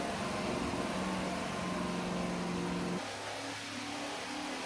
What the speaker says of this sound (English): It's high time I put the other guy's LT1-350 back up on the dyno.